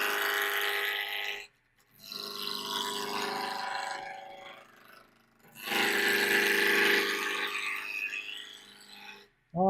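Wood spins on a lathe at about 1500 RPM while a hollowing tool handle is turned, giving a continuous scraping, rasping cut that stops briefly twice and then resumes, loud and close.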